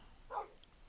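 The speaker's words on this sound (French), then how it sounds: "Tiens, un chien." A single short, soft bark from a dog in Minecraft sounds once against a quiet background.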